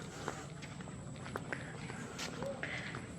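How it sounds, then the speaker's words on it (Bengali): Quick footsteps on an outdoor village path, keeping a steady, brisk rhythm close by, with a murmur of voices and general outdoor noise in the background. "আমি একটু তাড়াতাড়ি হেঁটে আপনাদের দেখাচ্ছি"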